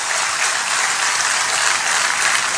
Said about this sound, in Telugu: గట్టిగా చప్పట్లు కొట్టి హ్యాపీ బర్త్డే చెప్పాల్సిన కోరుతున్నాం.